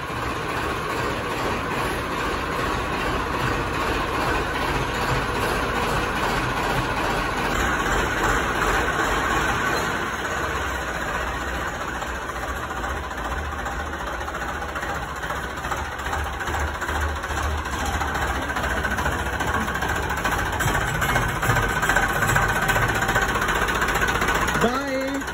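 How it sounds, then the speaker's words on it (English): A farm tractor engine idles at a family home in India, a steady close rumble with faint knocking pulses running throughout, with occasional background noise and no clear talk. "So this is the tractor."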